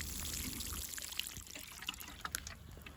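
Carried water is poured onto seedlings for irrigation, a soft steady trickle and splash running close by at low volume with no talk over it.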